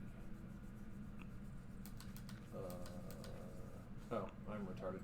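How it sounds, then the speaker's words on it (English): Quiet, quick mouse clicks come in irregular bursts while someone navigates the menus of an RPG, sitting low under a faint background hum. "In the menus, I kind of get lost, so that's why you hear so much clicking"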